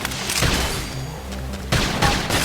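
Rapid gunfire bursts and booms from a Xenoblade Chronicles X battle, a dense loud fusillade with game music and effects underneath, sharpening again near the end.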